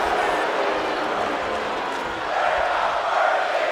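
A wrestling video game arena crowd roars in WWE 2K25, a dense, steady wash of massed voices that swells slightly toward the end, filling the whole stretch without a break.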